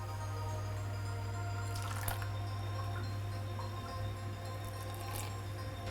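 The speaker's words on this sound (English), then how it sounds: "We're going to add 25 milliliters of very hot water" Very hot water poured steadily into a cup while making mango milk tea from powder, a continuous close liquid stream over a low hum, with no talking.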